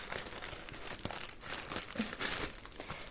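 An AliExpress parcel is cut open, its plastic packaging crinkling and rustling in close, irregular bursts with small tearing scrapes.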